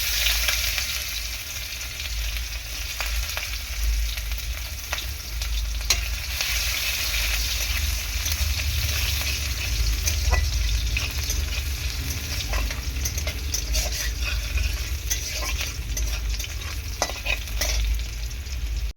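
Five-spice seeds and onion frying in oil in a pan, a steady crackling sizzle with scattered pops and faint stirring scrapes throughout, close and continuous with no talk.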